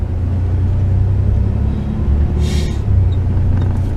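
A van rolling slowly along a road, a loud steady low engine rumble and road drone from inside the cabin, with a brief hiss of air partway through and no talk.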